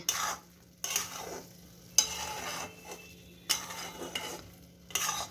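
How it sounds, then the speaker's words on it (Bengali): A spoon stirs a thickening coconut, milk and sugar mixture in a pan, making rhythmic scraping strokes about once every second with a faint sizzle between them, close and alone. "মা এখন একটু নাড়ছে"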